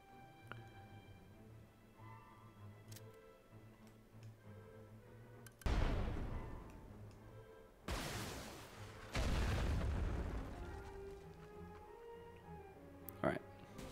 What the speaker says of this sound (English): We've done some damage over there with that particular explosion